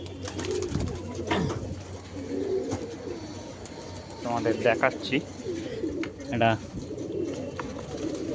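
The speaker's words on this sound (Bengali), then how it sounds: "এই দেশি পায়রাটা ওকে খাওয়ায়" Domestic pigeons coo close by in low, throaty rolling calls, repeated several times while a person speaks briefly between them.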